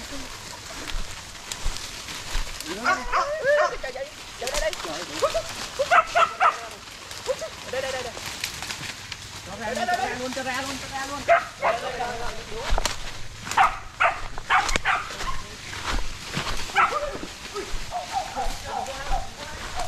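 Hunting dogs out in the field bark and whimper in scattered outbursts, close and lively, with rain and people talking throughout.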